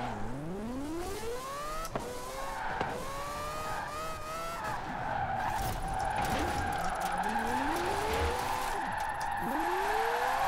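A Mazda drifts in Forza Horizon 4, its engine revving up and down repeatedly while the tires squeal in a long, sustained skid, loud and close with no talking.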